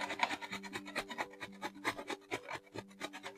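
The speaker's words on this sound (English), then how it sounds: "We want to wring it out to reduce some of the moisture." Grated zucchini being wrung out by hand, a close, soft, rhythmic squeezing and rubbing sound in quick repeated strokes.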